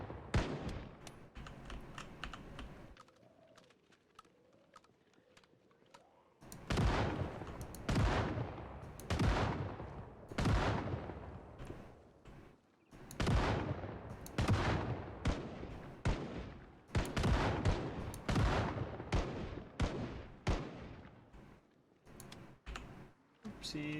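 Repeated bursts of gunfire from Project Zomboid, sharp shots ringing out in rapid clusters with brief pauses, loud and close, after a quieter stretch of game noise.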